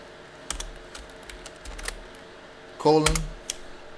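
A few sparse keystrokes land on a computer keyboard, clicking close and crisp, followed by a brief louder tonal burst near the end, all over a low steady room hum.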